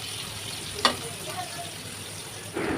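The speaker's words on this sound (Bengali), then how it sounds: "মাছগুলোকে দুপাশ উল্টিয়ে পাল্টিয়ে একটু লাল লাল করে ভেজে নেব।" Shrimp rubbed with turmeric and salt fry in oil in a wok, a low steady sizzle broken by a sharp clatter partway through and a louder burst of sizzling near the end.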